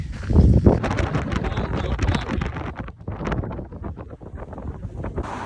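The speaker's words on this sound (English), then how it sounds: "It is incredibly windy" Strong wind on Norway's Lofoten Islands buffets the microphone in loud, rumbling gusts, with broadband roaring that swells and dips throughout and no voices.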